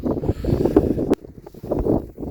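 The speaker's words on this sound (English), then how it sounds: "that wind is strong and bitter" Strong, bitter wind buffeting a microphone on a Snowdonia mountaintop near Foel Fras, a loud rumbling gusty roar that drops away abruptly midway before rising again.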